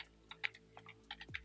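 Quick typing of a file name on a computer keyboard, a short burst of light, close key clicks in an uneven rhythm, quiet and with no talk.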